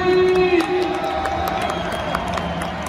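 A football stadium crowd cheers after an Olympique Lyonnais home win over Nice, a broad roar of voices, whistles and scattered clapping that stays loud and steady throughout, with faint tonal calls drifting above the mass.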